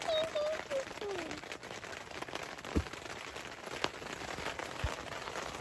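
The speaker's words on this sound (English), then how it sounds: "See some of the raindrops on the tent." Rain patters steadily on a tent in light, dense drops, with a few louder taps standing out and a soft whistle-like tone early on.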